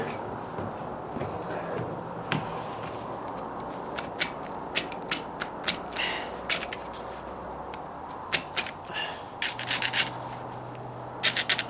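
A putty knife scrapes old stucco off a wall, giving a steady rough rasping with repeated sharp scratching strokes that grow busier toward the end.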